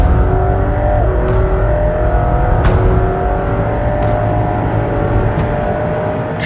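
A racing car on a vehicle dynamics test drive, with a Bosch Engineering setup on the rear axle, accelerates hard with a loud continuous engine roar and rising revs that stay steady and close throughout, with no talking.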